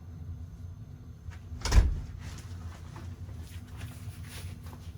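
Workshop door closed before table-saw work, one solid thud with a brief rattle, followed by low room hum and faint shuffling.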